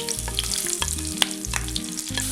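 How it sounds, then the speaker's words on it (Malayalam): Onions hitting hot ghee with cloves, cardamom, mace and bay leaf for a chicken biryani, a loud steady sizzle broken by sharp crackles and stirring scrapes, close by with no talking. "ഇത് ചൂടായി കഴിയുമ്പോൾ ഇതിലേക്ക് സവാള ഇട്ട് കൊടുക്കാം."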